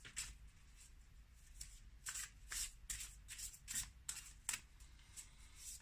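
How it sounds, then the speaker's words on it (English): A deck of Divine Abundance oracle cards shuffled by hand: a quiet, steady run of crisp riffling flicks and slaps, close and alone. "Let's pull one more card from the Divine Abundance"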